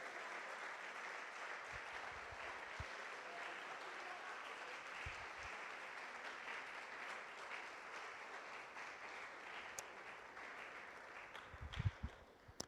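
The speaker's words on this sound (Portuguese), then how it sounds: "Você pode aplaudir ao Senhor por isso?" A church congregation gives a long, steady round of applause to the Lord, a dense, even wash of clapping with a few louder bursts near the end.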